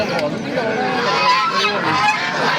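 Geese honk continuously at a live poultry market, a loud, crowded chorus of overlapping calls close by.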